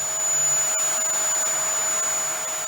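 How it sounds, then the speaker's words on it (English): A vacuum cleaner sucking lint out of the filter of a Hotpoint Aquarius tumble dryer, a loud steady whine held close up without pause, with faint scraping and knocks as the nozzle moves across the gauze. "you can then take your vacuum cleaner and get rid of all the smaller bits"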